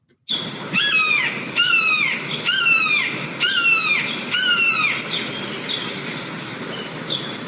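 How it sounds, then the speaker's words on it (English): Red-shouldered hawk call: a series of five loud, close, descending squealing screams in a steady rhythm, then fading into a softer hiss of background. "the red-shouldered hawk also has a very distinct call, also imitated by blue jays"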